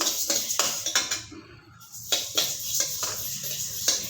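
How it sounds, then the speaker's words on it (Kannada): Mustard seeds go into a pan for dry roasting while making sambar powder, heard as repeated close metallic scrapes and clinks, rhythmic stirring against the pan with a brief lull partway. "ಈಗ ಸಾಸಿವೆ ಹಾಕ್ಕೋತೀನಪ್ಪ"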